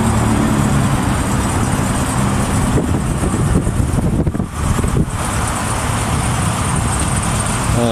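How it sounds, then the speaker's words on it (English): A 1987 Itasca Phasar motorhome engine idles with a steady, continuous rumble and hum, holding constant the whole time with no talking. "It's still idling."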